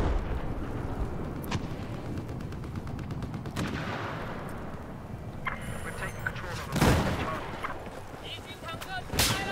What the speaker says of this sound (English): Oh, sniper fire.